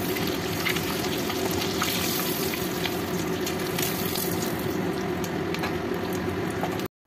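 Eggs lightly frying in hot oil for Bengali egg korma, a steady dense sizzle and bubbling crackle running evenly and loud throughout, then cutting off abruptly at the very end.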